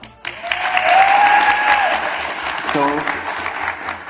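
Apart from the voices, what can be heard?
live studio audience clapping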